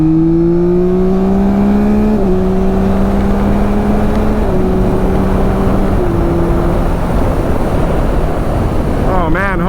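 Wind roaring steadily and loudly around a rider on a 2021 Yamaha MT-09 SP motorcycle at speed, broadband buffeting mixed with engine tones that step down through gear changes and masks a voice.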